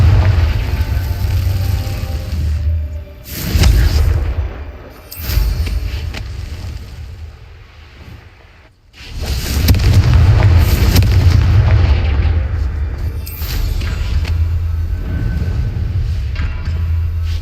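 Confringo blast spells going off in the Hogwarts Legacy video game, loud booming explosions with deep rumbling bodies, one burst after another with brief lulls and a near-silent gap between them.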